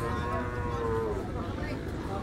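A carabao, a water buffalo, moos with a long low drawn-out bellow at a livestock trading market, heard close and steady throughout.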